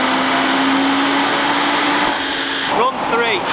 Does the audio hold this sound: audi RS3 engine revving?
yes